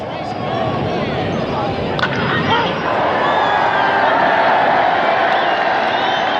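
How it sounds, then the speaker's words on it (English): A distant, hollow-sounding baseball crowd rises from old bleachers, a steady wash of murmuring and cheering with faint whoops, sustained throughout rather than building to a peak. "a faint, eerie echo of the crowd that once sat in those bleachers"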